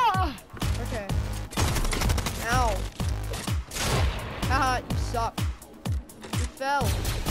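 Rapid, repeated gunfire from a newly added gun in a video game. Sharp shots fire in irregular bursts throughout, loud and close, mixed with chirping game effects and other sounds.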